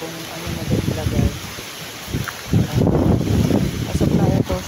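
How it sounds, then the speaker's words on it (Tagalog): Blustery typhoon wind roars steadily outdoors with rain noise mixed in, buffeting the microphone, while a person speaks over it. "malakas pa rin yung hangin at ulan"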